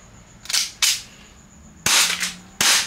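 Shots from a CTM 7-inch carbine kit, fired to the side during a test: four sharp, loud cracks in two close pairs, separated by a short pause.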